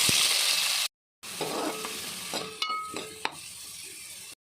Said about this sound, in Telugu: సన్నగా కట్ చేసుకున్నాం ఆనియన్స్ని పచ్చిమిర్చి వేసి ఫ్రై చేసుకున్నాం